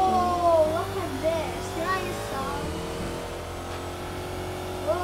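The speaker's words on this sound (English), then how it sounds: "This Lamborghini is fast." Game engine sound of a Lamborghini being driven in House Tycoon, a steady mid-pitched drone with revving swells, with someone talking over it throughout.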